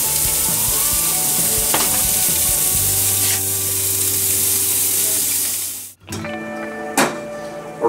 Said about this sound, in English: Our rice is at a full boil now.